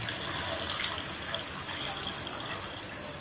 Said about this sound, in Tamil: அதுக்கேற்ற மாதிரி நான் தண்ணி இன்னைக்கு ஊற்றுறேன்